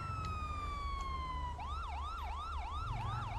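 Video game electronic police siren sweeping in a long descending tone, then switching to a fast repeating yelp, steady and fairly close, with a low engine rumble beneath.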